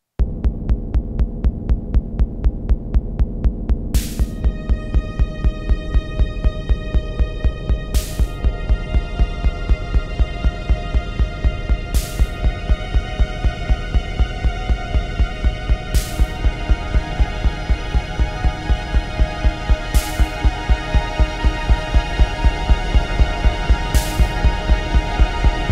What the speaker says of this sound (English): I just added like a bass drum pulse to it and some strings in the background.